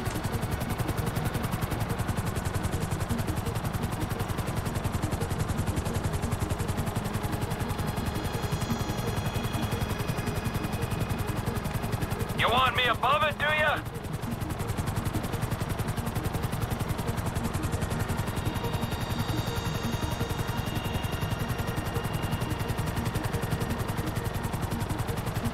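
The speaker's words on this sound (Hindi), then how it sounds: "अरे एक तो ये हेलीकॉप्टर कंट्रोल नहीं होता भाई" A helicopter flies in the video game GTA 5, a steady rotor and engine drone with a rhythmic throb lasting throughout, plus a brief burst of chirping game alert tones partway through.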